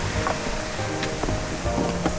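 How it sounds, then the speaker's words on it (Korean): A small waterfall on a mountain trekking trail in Thailand sends out a steady, full rush of falling water. The dense roar is close and continuous throughout, with a few faint higher splashes. "그냥 귀여운 폭포"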